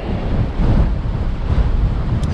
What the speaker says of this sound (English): I'm going against the wind here.